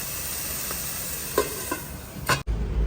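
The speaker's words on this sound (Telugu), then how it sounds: "అన్నీ వేసేసి జస్ట్ ఒక్కసారి అలా మిక్స్ చేసేసి లిడ్ క్లోజ్ చేస్తున్నాను" Tomatoes and other ingredients stirred in a pot while cooking semiya pulao, a steady sizzling hiss with a few soft scraping strokes and a final clatter, close up with no talking.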